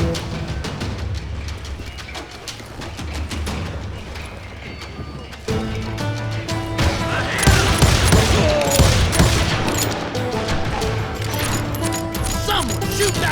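Gunfire in a Call of Juarez Gunslinger shootout, scattered shots at first, then a louder flurry of rapid shots with crashes and clatter, amid a busy, chaotic mix.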